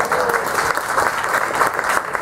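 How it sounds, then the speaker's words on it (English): A round of audience applause at a business presentation, a continuous dense patter of many hands clapping at moderate volume throughout. "he deserves a round of applause"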